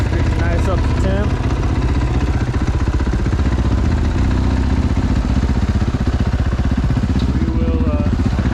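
A Timbersled snow bike engine warms up close by, a steady loud idling drone with a throbbing rhythm throughout, while someone talks over it.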